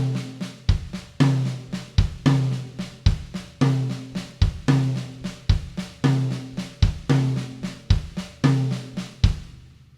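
A drum kit fills every eighth-note triplet space, the left hand weaving between right-hand accents and kick drum strokes, a steady, busy rolling groove played close and loud without any talking.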